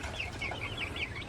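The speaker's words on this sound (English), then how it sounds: "So I got the chickens feeding right now." Chickens cluck softly while feeding on pasture in the late afternoon, a series of short, fairly quiet calls repeating over steady low background noise, with no talking.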